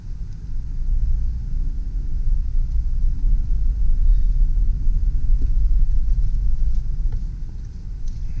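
A 2008 Ford Explorer 4x4 backing up in reverse, heard as a loud, steady low engine and road rumble that swells slightly midway, with faint ticks and clicks over the drone.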